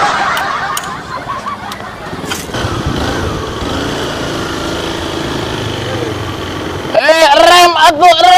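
A large motorbike engine runs beneath ongoing talk and background chatter, then swells louder and closer with a rising, revving tone near the end.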